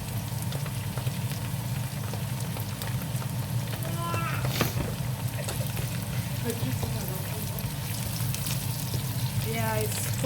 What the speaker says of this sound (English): It's frying very nice. You can see it's sizzling.